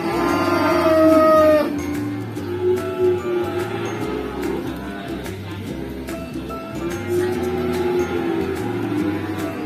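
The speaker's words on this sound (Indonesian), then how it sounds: "Jadi kita lihat sapi yang sampingnya." Pegon cattle in a pen low loudly, with one long, close moo at the start and softer lowing and rumbling later, over a background of steady farm noise.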